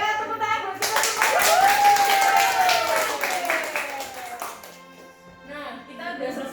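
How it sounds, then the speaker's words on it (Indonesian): An audience claps at an online church worship talk show event, a dense patter of hand claps running for several seconds beneath a voice and musical tones before fading away. "tepuk tangan buat kita semua"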